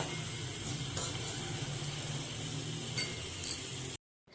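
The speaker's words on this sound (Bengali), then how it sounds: "তার মধ্যে দুধটা দিয়ে দিলাম, ব্যাস।" Milk poured into frying semolina in a home kitchen pan gives a steady, soft hiss and sizzle, with a light clink partway through. No voices are heard, and the sound cuts to silence at the end.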